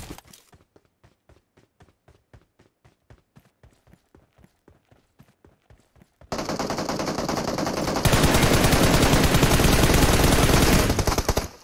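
Video game gunfire follows a reload: evenly spaced single shots crack in a fast, steady rhythm, then give way to a dense, loud, sustained barrage.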